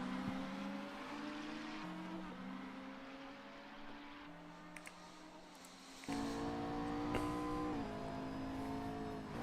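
Onboard engine of a McLaren 650S GT3 in a racing game at the Nürburgring, a steady droning note that rises and drops with gear changes, then jumps louder and harsher near the end.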